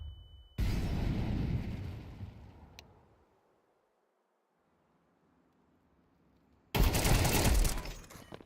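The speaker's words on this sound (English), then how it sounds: "Throwing flashbang." A flashbang grenade in Counter-Strike 2, with a loud burst that trails off into near silence, then another sudden loud blast near the end.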